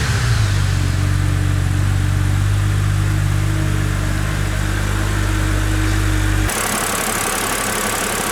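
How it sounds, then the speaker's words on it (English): A BMW Z4 3.0si Sport Coupe (E86) with its straight engine idling close by, a steady low hum with faint ticking, which cuts to a quieter, different running sound near the end. "letting the engine run with the heating system on"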